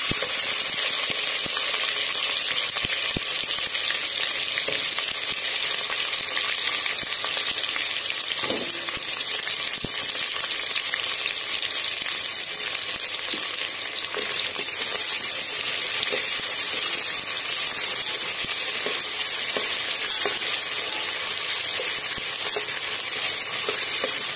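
Onion frying in oil with cumin, cinnamon, bay leaf and other whole spices gives a loud, continuous sizzle, with occasional soft stirring clicks and no talking.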